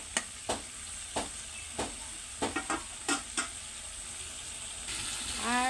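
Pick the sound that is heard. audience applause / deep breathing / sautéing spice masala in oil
sautéing spice masala in oil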